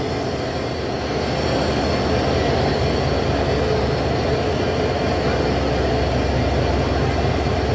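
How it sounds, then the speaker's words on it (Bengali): Madhumati Express from Dhaka to Rajshahi, hauled by American-built 3200-horsepower broad-gauge locomotive 6620, passing close with a loud, continuous rumble and clatter of wheels that barely changes throughout. "আজকে ঢাকা থেকে রাজশাহীমুখী মধুমতি এক্সপ্রেসের আজকের লোকো আমেরিকান দানব ছেষট্টি বিশ বত্রিশ হর্স পাওয়ারের আমেরিকান দানব"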